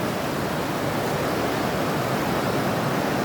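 A strong river current rushes past, a dense, unbroken roar of water at steady volume throughout with no voices.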